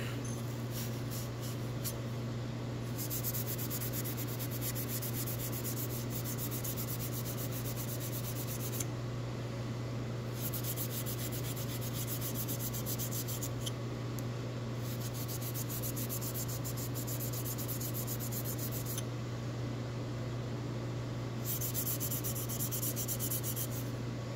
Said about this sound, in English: I just want to see here if I can kind of clean up some of that scale with just some Scotch-Brite.